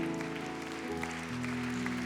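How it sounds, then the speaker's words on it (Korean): A church congregation applauds steadily during a Sunday worship service, a dense, continuous patter of clapping filling the sanctuary, with a sustained tonal backdrop underneath and no speech. "우리 끝까지 격려의 박수 부탁드리겠습니다"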